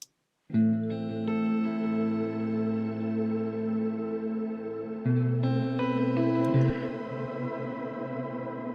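Electric guitar chords drenched in lush, spacey shimmer reverb modeled on the Strymon BigSky in Logic Pro X, with shimmering high overtones that hang and swell, sustaining long after each strum.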